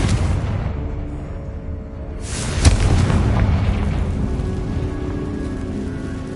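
A Confringo fire spell bursts in Hogwarts Legacy with a sudden loud boom and a sharp crack, then a rumbling, crackling blast that lingers over steady game ambience.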